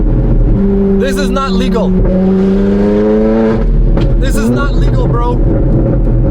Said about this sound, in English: This exhaust is insane, bro.